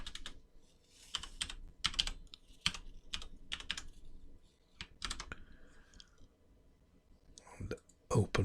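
Someone types a password on a computer keyboard while logging into a Hikvision ColorVu G2 security camera, giving irregular bursts of close, crisp key clicks with short pauses between them.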